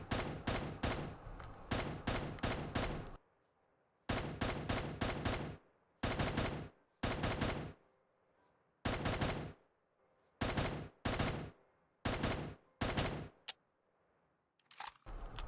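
Full-auto gunfire from a rifle in a Modern Warfare video game mod, loud close bursts of rapid rhythmic shots repeated about a dozen times, separated by short silent pauses.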